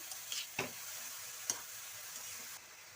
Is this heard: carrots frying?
yes